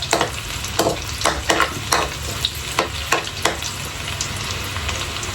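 Ginger and onion sautéing in a pan for Bicol Express, with a constant sizzle under a series of sharp, close spatula scrapes and clacks at an uneven rhythm, no talk.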